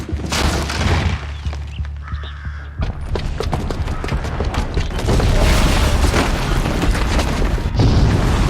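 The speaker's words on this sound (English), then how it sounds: "the booby trap on the bomb downstairs is gonna get set off" Booby-trapped bomb going off in Horizon Zero Dawn: a loud, sustained roar of blasts and crashing debris, with several sharp bursts layered over a deep rumble that stays dense and powerful throughout.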